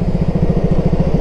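A Yamaha R15 V3 motorcycle with three years of use runs close by, its engine giving a loud, quick, even throb through the whole moment with nobody speaking.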